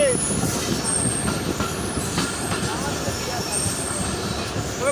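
Up Titumir Express train at Chilahati railway station, northern Bangladesh: a loud, continuous rolling rumble with repeated high wheel squeals and clatter from the carriages, nearby and steady throughout.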